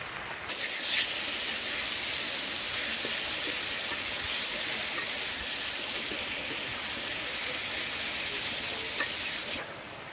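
Fish fries in a pan for a fish curry with pointed gourd and potato, giving a steady, loud, even hiss that runs unbroken from start to finish, with no voices.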